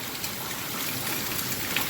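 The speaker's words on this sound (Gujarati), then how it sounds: "આટલો બધો વરસાદ છે" Steady, dense rainfall pouring down, a continuous broadband hiss with scattered drop impacts, no voices.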